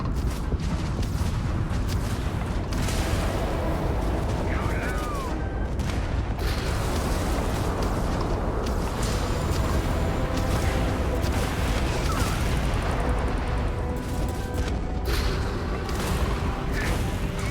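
Spaceship weapons fire and explosions from the Starfield video game form a dense, loud barrage of booms, blasts and crackling impacts over a constant rumble, with game voices calling out amid the combat.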